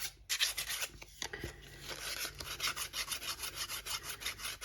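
Sandpaper rubbing quickly back and forth over sharp edges, a close, quiet rasping scrape in steady rhythmic strokes.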